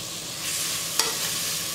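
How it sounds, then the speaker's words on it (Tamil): Grated beetroot sautés in a pan with a soft, even sizzle and a couple of sharp stirring clicks. "பீட்ரூட் துருவலை போட்டதுக்கு அப்புறமா ஒரு 5 நிமிஷம் நம்ம நல்லா வதக்கணும்."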